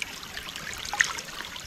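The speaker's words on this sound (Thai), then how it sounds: "แถวลำธารครับบรรยากาศจะดีดีครับ" A forest stream trickles and gurgles along a mushroom-foraging trail in Thailand, a steady, faint babble of running water with no voices.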